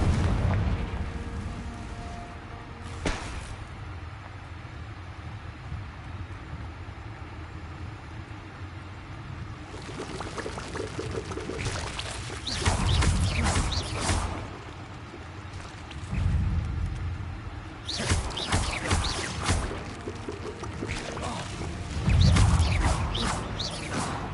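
Confringo fire spells from Hogwarts Legacy go off in booming, crackling blasts, several bursts in a row with rumbling low-end impacts spread across a battle, standing loud over a quieter game background with no talking.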